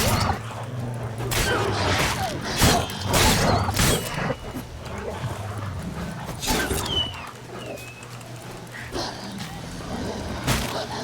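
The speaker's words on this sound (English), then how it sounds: "I hear wolves." Wolves attacking in the Witcher 3 video game, a pack snarling, yelping and barking in bursts with sharp combat clashes and whines, fairly close over a low ambient hum and occasional player remarks.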